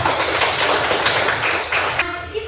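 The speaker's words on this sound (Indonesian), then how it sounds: "tepuk tangan" A group of students claps together during a classroom lesson, a dense, steady patter of many hands for about two seconds before it cuts off abruptly.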